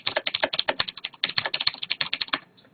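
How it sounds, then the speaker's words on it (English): Rapid typing on a mechanical keyboard with Cherry MX Blue switches: crisp, clicky keystrokes in a fast, uneven run, close and loud, stopping near the end. "I'm going to do a little type test right here."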